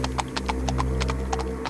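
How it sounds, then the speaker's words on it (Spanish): Two black horses pulling a black carriage clip-clop in a quick, even run of hoof strikes over a low steady hum. "Era jalada por 2 caballos mucho más negros aún que cualquier oscuridad alrededor de la casa."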